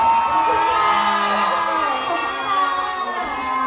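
A crowd at a bright Nest mini-concert in Shanghai screams and cheers loudly, high shrieks and whoops layered into a continuous roar with scattered yells throughout.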